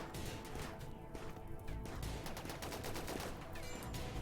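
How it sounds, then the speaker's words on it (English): Rapid volleys of gunfire in a Rimworld siege battle, dense overlapping shots and crashes running continuously and loudly throughout, with no talking. "Headshot on Sadako. Shot out her eye."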